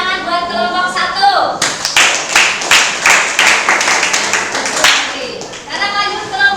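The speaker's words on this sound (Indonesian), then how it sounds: "tepuk tangan buat kelompok 1." A group claps together for a student team in a classroom, a burst of many overlapping hand claps lasting several seconds, close and fairly loud, with voices talking before and after.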